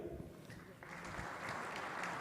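Audience applause at a business congress panel in Brazil, a steady dense wash of clapping that builds slightly and holds, with faint voices mixed underneath.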